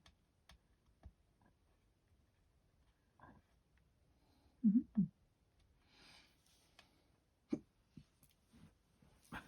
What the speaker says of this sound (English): Excuse me, hiccups now.